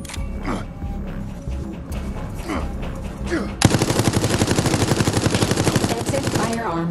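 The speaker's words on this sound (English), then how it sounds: "Use the machine gun skill card to defeat the survivor" In the Resident Evil Resistance video game, sparse thuds give way to a sudden sustained burst of rapid machine-gun fire, loud and rhythmic, lasting several seconds before trailing off.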